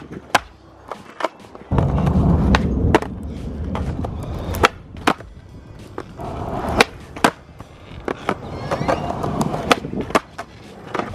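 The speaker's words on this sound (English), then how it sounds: "regular board flat ground tricks first" Flat ground tricks on a regular skateboard outdoors: wheels rolling on pavement with a series of sharp tail pops, clacks and landing thuds at irregular intervals, fairly close, with some wind noise.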